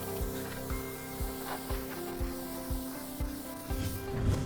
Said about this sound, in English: we're just going to give it a quick blow with the compressed air